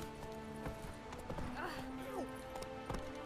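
Horse hooves clip-clop in The Witcher 3 in a few spaced, quiet beats, accompanied by a faint neigh and soft game ambience, all at low volume.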